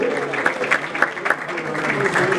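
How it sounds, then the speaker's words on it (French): An audience at an awards ceremony claps for the nominees, a brief burst of lively applause with a voice speaking faintly over it. "Est-ce qu'on peut applaudir pour les nominés"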